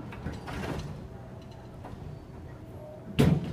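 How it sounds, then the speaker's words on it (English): Schindler lift doors closing in a shopping-centre car park, a low sliding rumble ending in a firmer thud as the doors meet, moderately close under faint room noise. "Doors closing."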